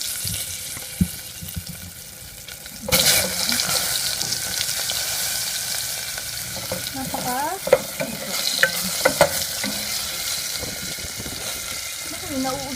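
Baby potatoes, unpeeled, drop into hot oil in a pan on a portable gas stove and start frying with a sudden broadband sizzle, then keep hissing steadily while utensils stir and clink a few times.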